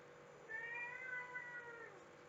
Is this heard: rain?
no